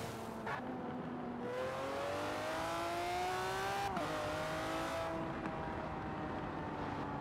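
A Lamborghini Murcielago LP670-4 SV V12 in Forza Horizon 4 accelerates through a city, its loud engine note climbing steadily through the gears with a brief shift dip, continuous and close with no talking.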